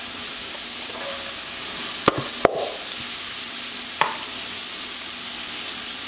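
Carrots going into a sizzling pot of pot pie filling, frying steadily with a few sharp clatters of spoon against pot while it is stirred.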